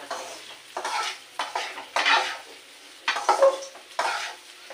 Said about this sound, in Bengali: কড়াইতে তেল গরম হয়ে যাওয়ার পরে তেজপাতা দুটো দিয়ে দিয়েছি, দিয়ে এই ডালটা দিয়ে ভাজি করে নিচ্ছি।